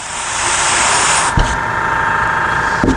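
Spray paint hissing steadily onto small wooden plaques with lettering, close and loud, with short breaks and a couple of faint knocks.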